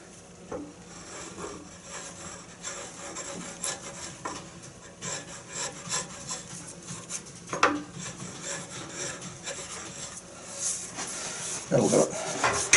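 A George Hatfield rod scraper smooths a wooden rod in repeated soft rasping strokes, fairly quiet and close, with a few sharper scrapes toward the end.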